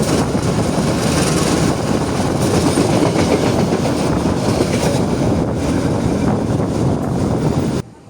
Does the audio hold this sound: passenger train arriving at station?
yes